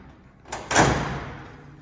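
Hood side panel of a 1933 Ford Model 40 Deluxe 3-Window Coupe being opened: a soft metallic click followed by a sharp latch clunk and a brief ringing sheet-metal rattle that fades, close and alone.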